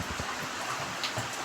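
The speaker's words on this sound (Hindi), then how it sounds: "बारिश तो मतलब लगी हुई है, दिखाती हूँ आपको, इतनी तगड़ी लगी हुई है ना।" Heavy rain falls steadily during a day-long downpour, a dense, even hiss of drops with no voices over it.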